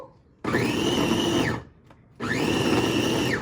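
A blender chopping beetroot whirs loudly in two bursts of about a second each, separated by a brief pause.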